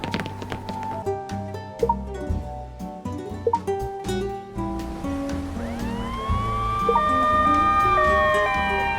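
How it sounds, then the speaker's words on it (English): An ambulance siren in the video game Life Makeover wails loudly, its rising and falling tone sweeping over game music with steady tonal notes and chimes. "Call an ambulance!"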